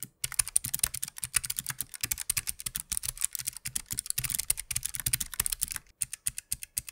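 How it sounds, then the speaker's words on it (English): Rapid, crisp clicks of mechanical keyboard switches, typed in a fast, uneven rhythm, close up and alone with no voices. "here are some more clicky switches on a different keyboard"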